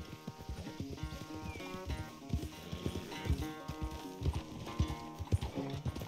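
Horse hooves galloping in Red Dead Redemption 2, a rapid, continuous clip-clop beat over a tonal musical score, steady and moderately loud throughout with no talk.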